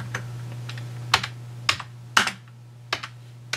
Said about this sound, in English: let me just quickly demonstrate typing